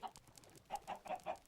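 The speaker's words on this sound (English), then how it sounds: "there certainly are chickens up here" Chickens cluck in a video game: a few soft clucks at the start, then a quick run of four louder clucks near the end, with no other sound.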